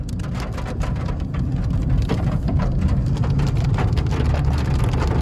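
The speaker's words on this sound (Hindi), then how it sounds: "मेरे पहले व्लॉग में बारिश हो गई" Steady rain pours down outdoors in pleasant weather at a fish party in Bahria Town, a dense continuous hiss that holds loud and even for the whole stretch with no voices over it.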